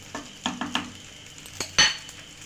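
Egg pasta with chili flakes and mixed herbs being stirred in a pan, a few quiet scraping and clinking strokes of a utensil against the metal, ending in one sharper clink.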